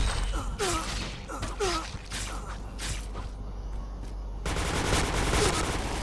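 Bursts of gunfire from the video game PointBlank, with several rapid shots clustered early and a steady game background running throughout; a faint voice may occur briefly.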